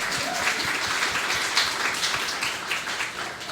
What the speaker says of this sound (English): let's give that a round of applause